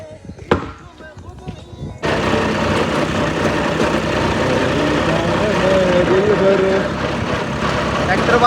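A farm tractor's engine runs steadily at idle in a guava orchard, a loud continuous rumbling drone starting abruptly after a couple of seconds of quieter sounds and a sharp knock.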